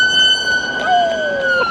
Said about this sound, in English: Comes the siren.